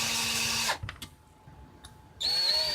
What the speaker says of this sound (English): But I should be able to pretty much just drill it.